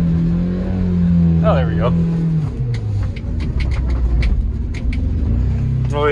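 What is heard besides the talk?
Honda CR-V engine revving as the clutch is let out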